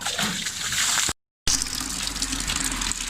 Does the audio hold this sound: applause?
no